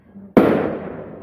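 A New Year's Eve firecracker goes off close by: one sudden loud bang after a quiet lead-in, followed by a crackling, fizzing burst that slowly fades over a second, with no talk.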